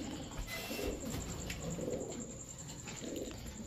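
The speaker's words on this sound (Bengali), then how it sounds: "এই সব হাই ফ্লায়ার গিরিবাজ কবুতরের হচ্ছে চোখটা ডিপেন্ড করে" Pakistani high flyer Giribaz pigeons cooing softly in repeated low murmurs, faint and somewhat distant over steady background noise, with no talk.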